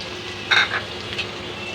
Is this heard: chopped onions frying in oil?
yes